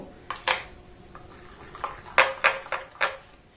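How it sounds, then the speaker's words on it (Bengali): A spoon knocks and scrapes against a bowl while chira (flattened rice) batter is stirred with water, giving a handful of short clinks spaced irregularly, close by with no talk. "জলটা দেওয়ার পর এটাকে আমি খুব সুন্দর করে এইভাবে নাড়াচাড়া করে কিন্তু ব্লেন্ড করে নেব"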